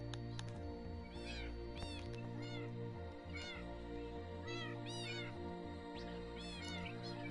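Cartoonish birds in a kids' mobile game, near a princess's beach house, let out repeated cat-like meows, several rising-falling calls spread across the stretch over a steady layer of game music.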